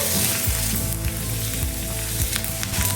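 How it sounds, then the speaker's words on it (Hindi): Grated ginger fries in hot oil with cinnamon and bay leaf, a dense close sizzle with a few stirring scrapes over three seconds. "अदरक को थोड़ा सा चला लेंगे।"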